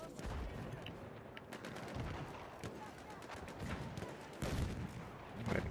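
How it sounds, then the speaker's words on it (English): Dense, continuous gunfire from Battlefield 1 crackles in rapid bursts and scattered shots, steady and fairly loud throughout, with faint voices under it. "Where are those shots coming from?"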